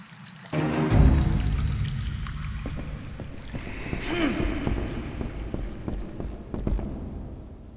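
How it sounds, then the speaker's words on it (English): Running water in the game Dust: An Elysian Tail, a steady rushing pour that starts abruptly and continues loud and close under music and voices talking. "The water's running!"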